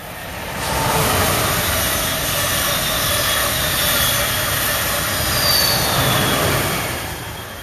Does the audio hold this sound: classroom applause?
no